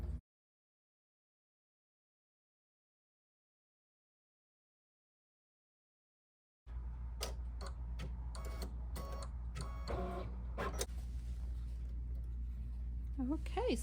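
After several seconds of silence, a Kimberbell embroidery machine starts stitching a sampler flower with a steady low mechanical hum and rapid irregular ticking. Some faint voice sounds come through.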